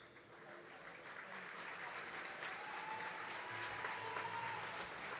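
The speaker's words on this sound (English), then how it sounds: "a big round of applause as the medical team help him off the court" Futsal spectators in an indoor arena applaud an injured player helped off the court, a steady, fairly quiet wash of clapping from a distant crowd that holds throughout.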